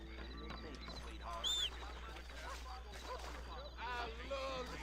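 Horse hooves clip-clop in Red Dead Redemption under overlapping voices and background music, with scattered sharp noises.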